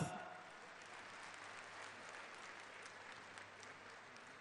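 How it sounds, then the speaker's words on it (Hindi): Steady applause from a large crowd at a Madhya Pradesh government farmers' welfare scheme event, a continuous rush of clapping heard from a distance with a faint hum underneath. "जोरदार तालियों के साथ"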